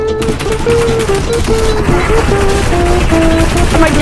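Rapid automatic gunfire from the video game Fortnite crackles steadily through a dense, busy mix of game sound, loud and continuous for the whole stretch, with tonal game effects layered over it.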